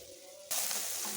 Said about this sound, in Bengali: এবার ভিতরে সয়াবিনগুলো দিয়ে ভেজে নেবো